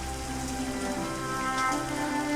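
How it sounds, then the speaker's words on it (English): Rain falling steadily in a film scene, a dense even patter on surfaces that stays loud and close throughout with no voices. "I love rain, and I love rain scenes in cinema."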